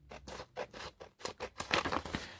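Scissors cut an old book page in a series of short, crisp snips and rustling scrapes, close by and fairly quiet, with no voices.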